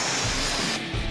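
A brief, loud hiss of an aerosol spray can, a single short burst.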